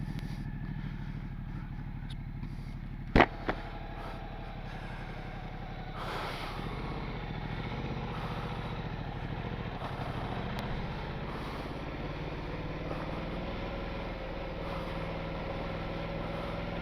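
Ducati Multistrada adventure motorcycle with enduro setup riding off-road on a gravel track, a steady engine drone with wind and crunching rumble and a sharp clack partway through.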